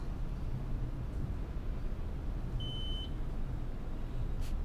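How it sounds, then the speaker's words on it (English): A single short, high electronic beep sounds once over a steady rumbling background of low engine noise, in the Train Sim World 6 video game on a Metro-North Northeast Corridor train arriving at Pelham. "Do I hear a beep?"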